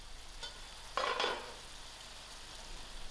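Broad beans chutney cooks in a pan with a low, steady hiss, broken by a short louder scrape and sizzle as the mixture is briefly stirred.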